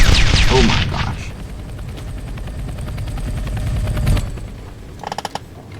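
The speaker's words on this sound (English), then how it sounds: "He knew the helicopters would come blow me up" Attack helicopters in a Roblox game roar with a steady, dense rotor drone, then a loud blast hits near the four-second mark, followed by a few short sharp bursts at the end.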